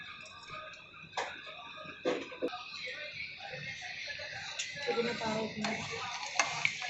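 Peeled garlic cloves frying in oil for prawn pickle, a soft crackling sizzle with occasional ticks and stirring clinks, while someone talks over it.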